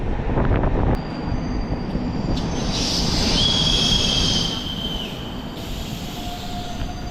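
A Chennai suburban MRTS train running from Velachery to Egmore near Taramani station gives a steady, loud rumble with a thin, high squeal from the rails that rises and fades.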